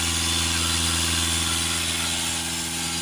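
Steady close-up idle of an Audi A6 2.0 TDI Ultra diesel engine, an even, unbroken rumble with no speech.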